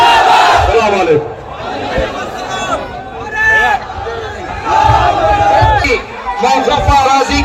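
A large rally crowd roars Nara-e-Takbir slogans in loud, surging waves of massed voices, with bursts of shouting rising and falling close by over continuous crowd noise.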